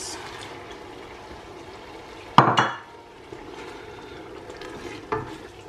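Tomatoes go into a simmering pot of Ghana okra stew with aniseed and garlic, giving a quiet sizzle, then a sharp clatter and splash as they drop in, followed by soft stirring and a later lighter knock.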